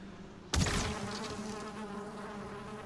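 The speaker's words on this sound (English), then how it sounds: "We'll just evict these bees," Bees buzz around a beehive in the video game Valheim, a sudden burst of loud, close droning that sets in after a brief pause and then settles into a steady, wavering buzz.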